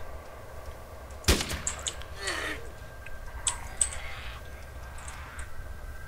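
M16 rifle firing in DayZ Origins, a single sharp loud report followed by softer clicks and faint distant pops, with a voice briefly audible.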